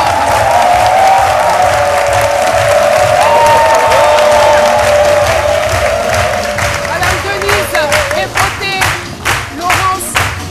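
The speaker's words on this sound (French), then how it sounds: "Je vous demande de l'applaudir très" Studio audience on Ivorian channel RTI 1's French-language midday talk show applauds and cheers loudly and steadily, then the clapping breaks up into scattered, uneven claps near the end while a faint voice carries through.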